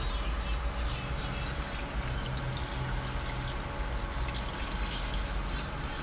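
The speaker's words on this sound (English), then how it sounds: "I will put more water here." Water pours steadily into a cooking pot for chicken feet curry, a continuous broadband rush with a low bubbling rumble underneath, close and fairly loud throughout with no pauses.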